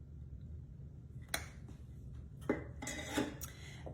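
Half a cup of room-temperature unsalted butter scraped from a bowl with a utensil, a few sharp clinks and scrapes at irregular moments over a quiet low hum, close and moderately loud.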